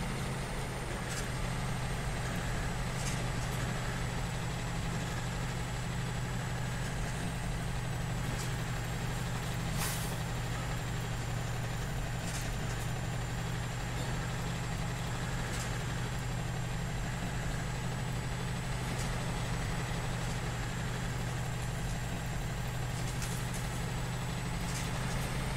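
A truck engine in the off-road driving game Spintires drones steadily throughout, a dense continuous low rumble with faint higher whine and occasional brief clicks, no pauses.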